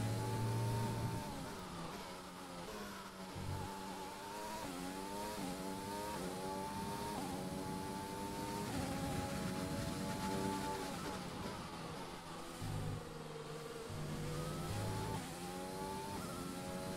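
Race car engine in a racing video game, a dry Abu Dhabi track in a time trial, holds a steady high revving whine with rising and falling pitch through gear changes, loud and continuous with no talk.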